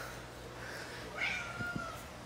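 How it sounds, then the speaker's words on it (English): A cat meows once, fairly faint and close, with a short, thin cry rising above a quiet room hum. "Hey, cat. Meow. Hey, cat. Meow."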